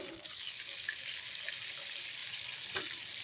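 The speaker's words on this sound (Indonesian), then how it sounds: "Lanjut kita goreng cabai ya." Chili peppers fry in hot oil in a new pan, giving a steady close sizzle and hiss with a brief clatter near the end.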